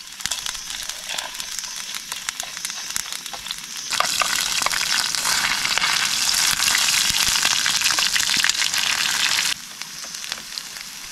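Chili dropped into hot oil in a pan sizzles and crackles steadily, swelling into a louder, dense frying hiss for several seconds before settling back down.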